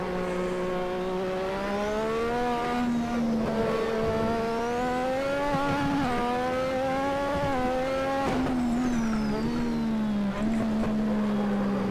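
The Lotus 98T turbo Formula One car in the Assetto Corsa racing game screams around Spa-Francorchamps, its engine pitch climbing and dropping through repeated gear changes, loud and close, with no talk over it.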